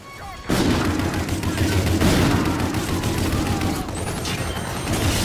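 Dense gunfire from the video game Call of Duty Infinite Warfare erupts after a short quiet start, sustained rapid shots and blasts filling the clip loudly, with a player's voice partly mixed in.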